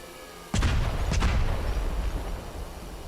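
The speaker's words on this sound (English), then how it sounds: "Cluster bombs. Let's try these." Cluster bombs detonate in an aerial combat video game: a sudden heavy boom followed by a second blast, then a dense rolling rumble of explosions that slowly fades, loud and alone.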